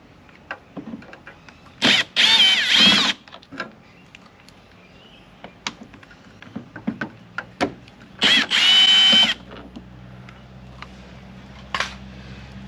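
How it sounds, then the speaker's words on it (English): A power drill backs out Torx screws from a Toyota LandCruiser 200 Series tailgate in two short whirring bursts, separated by quiet clicks and handling noises, close up and loud. "they are Torx screws, so you do need to have a drill piece"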